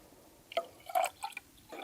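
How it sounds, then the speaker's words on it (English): Water flushed into an HVAC system's primary drain pan beneath the evaporator coil during a home tune-up, heard as a few quiet, intermittent splashes and drips separated by short pauses. "we're also going to run it into the primary drain pan, which is below the evaporator coil, and then give her a good flush on the second go round"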